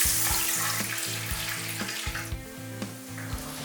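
Chicken pieces fry steadily in hot oil, giving a close, continuous sizzle with soft crackles and occasional pops. There is no talking.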